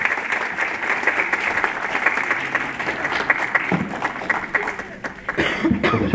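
Audience applause welcoming a professor at a university lecture, steady clapping from a crowd with a brief dip near the end before a final burst, a cough and some chuckling mixed in.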